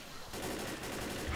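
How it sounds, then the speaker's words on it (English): Automatic weapon fire in the Left 4 Dead zombie shooter, a dense sustained burst of rapid shots running through the whole short stretch at steady, fairly loud level. "I'm shooting an automatic weapon and you're running right in front of it."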